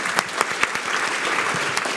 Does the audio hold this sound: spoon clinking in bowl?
no